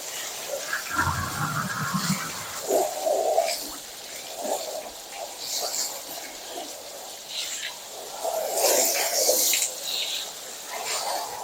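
Water being poured gently over a cow during its bath, heard as intermittent soft splashes and trickles that come and go in short bursts, with a quiet voice in the background.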